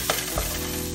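Garlic frying in a pan for a cottage pie, giving a short close burst of sizzling with a couple of quick stirring scrapes.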